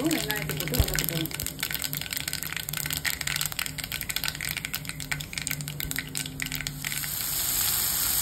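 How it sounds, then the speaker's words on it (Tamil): Onions frying in hot oil with mustard seeds and cumin for a village-style prawn curry, giving a steady close sizzle with crackling throughout, while a person speaks over it. "கடுகு ஜீரகம் புரிஞ்சதுக்கப்புறம் வெங்காயம் போட்டுக்கோம்."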